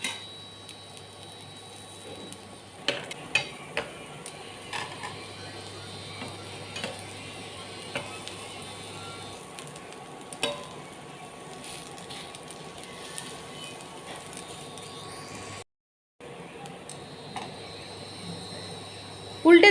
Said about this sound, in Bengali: এবার মিডিয়াম হিটে বড়াগুলো হালকা ভাজবো।